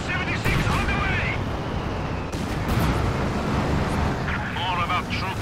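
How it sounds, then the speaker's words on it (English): Rocket barrage artillery in Company of Heroes 2, a dense, continuous roar of launches and impacts with booming low rumble throughout, under game voice lines and battlefield noise. "Rocket barrage! Clear the impact zone! Fire!"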